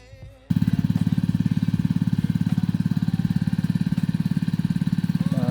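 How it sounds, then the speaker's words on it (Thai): An ordinary water pump engine drawing water up from a pond runs steadily after a short quiet start, its rapid, even chugging loud and close throughout. "เครื่องดูดน้ำธรรมดาเลย ดูดน้ำขึ้นมาจากสระ"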